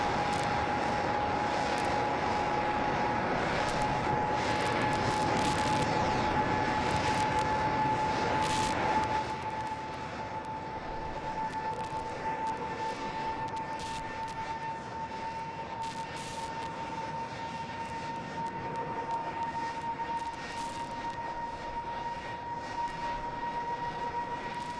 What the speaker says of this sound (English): They just cut in the audio for the venting.